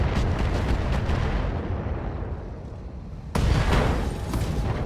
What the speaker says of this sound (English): we get an ammo explosion